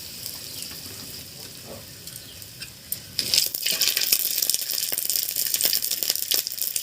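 Bay leaf and a dry chilli dropped into hot mustard oil: a quiet stretch, then a sudden loud burst of crackling sizzle that continues steadily.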